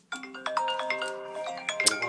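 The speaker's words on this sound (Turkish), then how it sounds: "Telefon çalıyor." A phone ringtone plays a bright, melodic electronic tune, a run of clear tones that rings steadily for a couple of seconds, moderately loud and close, with no talking over it.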